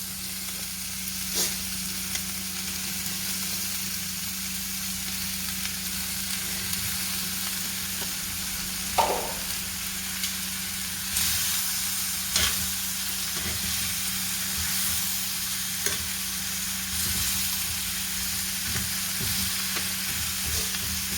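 Shrimp and chorizo sizzle steadily in a hot pan as a continuous frying hiss, with a few brief clinks and stirring bumps partway through and no one talking.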